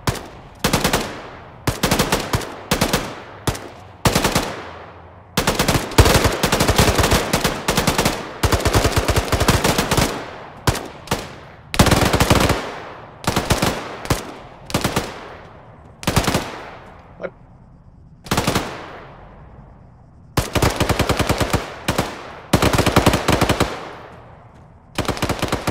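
Sustained machine gun fire in Arma 3 rattles in long and short bursts, loud and close, with quick pauses and echoing tails between volleys, and no talking over it.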